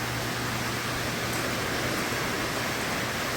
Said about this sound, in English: it's really raining outside. It's not really raining that hard, but the metal roof makes it sound like it's Armageddon